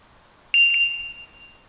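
A shooting timer gives its start signal, a sudden piercing electronic beep lasting about half a second that rings on faintly afterward, loud and clear against a quiet background.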